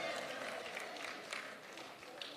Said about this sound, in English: Everybody clap for yourself.